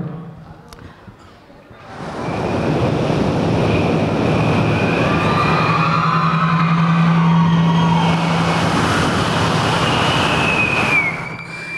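A beatboxer's voice imitates an airplane taking off, a loud rushing roar with a rising whine that builds and holds for nearly ten seconds.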